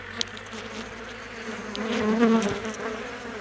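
Steady buzzing of a winter cluster of Carniolan honey bees fills the air, a dense droning hum that swells slightly partway through, with faint handling noises.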